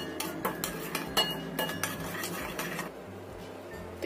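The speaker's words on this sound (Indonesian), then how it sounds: "Kita aduk sampai tercampur rata." A spoon clinks and scrapes around a bowl of sauce seasoned with stock powder and sugar in short repeated strokes, close and fairly quiet, then the stirring softens toward the end.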